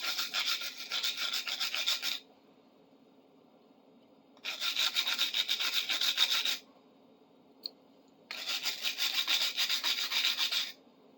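Rust is scrubbed off an old hand tool being restored in three bursts of dry, rasping rubbing, each about two seconds, separated by quiet pauses, with a brief click between the second and third strokes.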